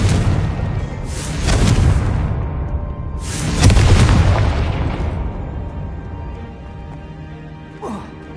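Two deep booming blasts of the Confringo fire spell in Hogwarts Legacy, a few seconds apart, each swelling and fading into a rumbling tail, followed by a brief faint sound.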